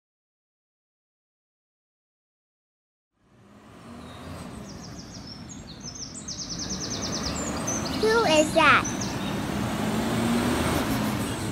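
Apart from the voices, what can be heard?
garbage truck passing by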